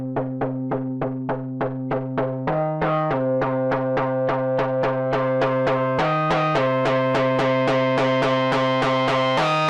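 A modular synthesizer voice plays a fast, repeating sequence of bright plucked tones, each note trailed by quick delay repeats that thicken into a sustained, buzzing wash as feedback builds, with pitch shifts between phrases, loud and alone.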